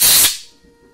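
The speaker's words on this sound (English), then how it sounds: "So let's blow some air through there." Compressed air blasts through parts of an MTD chipper shredder in a sharp, loud, close hiss lasting about a quarter second, then cuts off into near silence.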